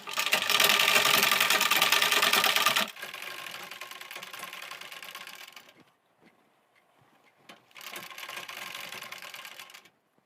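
A sewing machine stitches lining fabric in bursts of rapid mechanical chatter, running loud at first, then somewhat softer, pausing briefly, and starting again before stopping. No one speaks.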